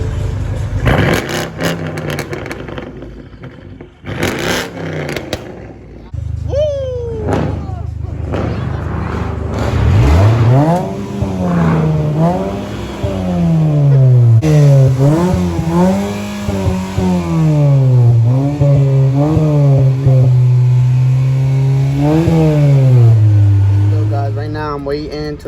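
Car engine revving loudly nearby in repeated rising and falling sweeps, with a deep exhaust growl building after an initial stretch of talk and clatter, as people speak in the background.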